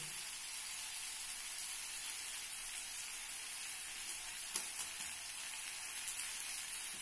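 Cumin powder and garam masala fry in a pan with a soft, steady sizzle, faint and continuous, with a few light stirring scrapes near the end and no talking.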